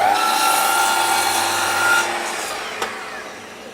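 Wood strips being cut for a dovetail jewellery chest, a loud, steady power-saw whine that eases off after about two seconds and fades out, followed by a single sharp knock.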